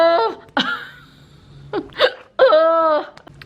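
A woman hiccups loudly and close up, with several sharp, voiced jolts spaced unevenly, a strained vocal sound between them and a longer drawn-out hiccup near the end.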